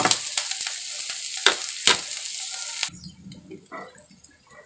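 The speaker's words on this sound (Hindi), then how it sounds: "प्याज और लहसुन और हरा मिर्च को भून लेंगे जब तक कि प्याज गोल्डन ब्राउन हो जाए" Loud, steady sizzling of onion, garlic and green chili frying in hot oil with scraping stirs, then the hiss drops away to quieter clinks and faint bubbling.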